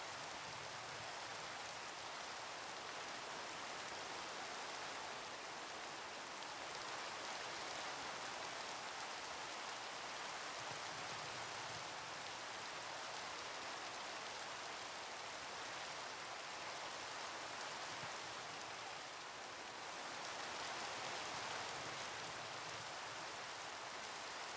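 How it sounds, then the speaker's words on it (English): Steady rainfall in Minecraft, a dense, even hiss of falling rain that stays constant and fairly loud for the whole stretch, with no voices over it. "I'm gonna stare at the rain for a little bit."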